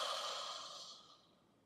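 A slow, deep exhale from a group breathing together, a soft airy rush that fades out over about a second.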